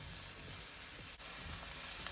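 Steady sizzling of kale leaves frying in a hot pan for palak paneer, a constant hiss with a brief dip partway through, no voices.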